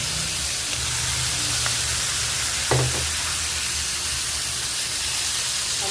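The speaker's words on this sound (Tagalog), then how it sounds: "ilalagay na natin ang ating pusit" Squid dropped into a hot pan for adobo, giving a broad, steady hissing sizzle close up, with a brief clatter near the middle and no talking.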